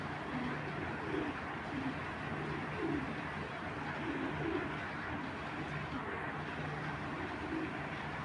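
Big silver bezi pigeons, including a male, give soft repeated low coos in a loose rhythm over a constant background hum.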